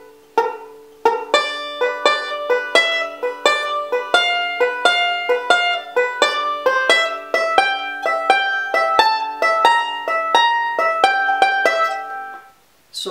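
Banjo picking an up-the-neck backup lick over the last two measures of a verse, moving into the four chord that opens the chorus: bright, rapid plucked notes in a steady rolling rhythm, played alone and close.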